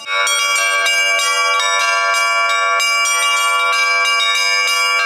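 Church bells ring at a Christmas festival for schoolchildren at the Penza theological seminary, where visitors try their hand at bell-ringing. Loud, bright peals strike repeatedly in an uneven rhythm, with overlapping tones ringing on and nothing else heard.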